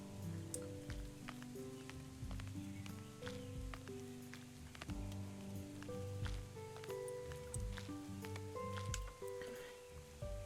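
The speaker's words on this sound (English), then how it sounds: "All this rain today." Video game rain patters softly in scattered, crackling drops beneath a gentle melodic music track that plays throughout.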